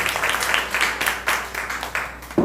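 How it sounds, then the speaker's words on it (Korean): Applause from a church youth congregation after a worship song, a steady wash of clapping from many hands across the whole stretch with no one speaking, sounding from a short distance. "우리 찬양 가운데 함께 하신 하나님께 영광의 박수 올려드리도록 하겠습니다."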